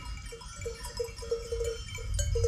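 A flock of sheep and goats with bells clinking in a repeating, uneven rhythm, set against a low rumbling background at moderate distance.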